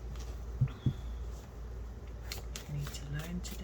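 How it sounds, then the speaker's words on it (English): A deck of cards is shuffled in a few quick, soft riffling bursts, faint and close, with a voice talking quietly in the background. "One more shuffle."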